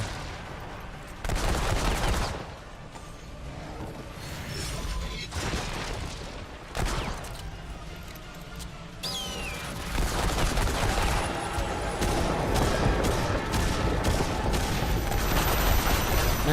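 Rifle and shotgun fire in the game Remnant 2, repeated sharp shots and bursts mixed with mechanical reload clicks and booming impacts, dense and sustained over game music and effects.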